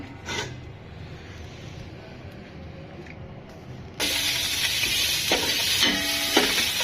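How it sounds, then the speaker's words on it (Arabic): After a few quiet seconds, ghee dropped into a very hot pan bursts into a loud, hissing sizzle that continues strongly to the end. "هنزل بحته سمنه كده"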